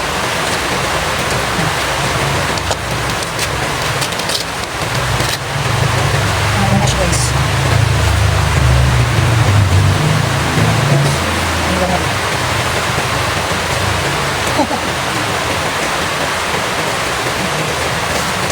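Heavy rain on a night outdoors as a dense, constant roaring wash with a low rumble underneath, loud and close throughout, while people talk quietly beneath it.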